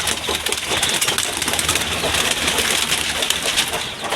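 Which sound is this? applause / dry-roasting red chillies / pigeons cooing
pigeons cooing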